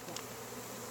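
Honeybees buzz steadily during a queen release at a hive, a dense continuous drone close by with no voices.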